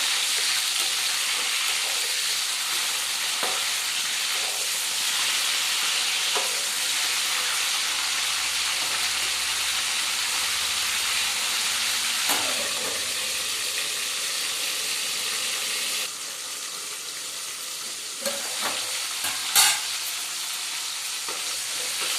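Food fries steadily in a pan with a loud, dense hiss that runs throughout, while a spoon stirs now and then, bringing occasional scrapes and clinks and a sharper knock near the end.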